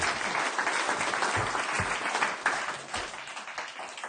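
Audience clapping at a city council meeting, a sustained round of many hands applauding in a hall, fairly even and moderately loud, with no speech over it.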